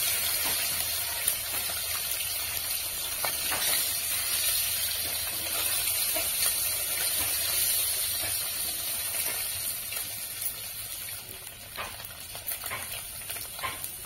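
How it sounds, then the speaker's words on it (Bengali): Eggs fry in oil in a kadai on low heat, giving a soft, steady sizzle and hiss with occasional light stirring scrapes, fairly quiet and uninterrupted by voices. "এরপর হালকা আঁচে আমি ডিমগুলি ভেজে নেব।"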